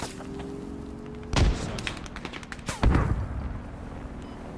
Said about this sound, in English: Looks like he's shooting.